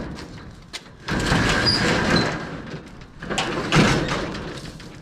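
A storage unit door rolls open with a loud, sustained rattling slide that pauses briefly and then rumbles on again.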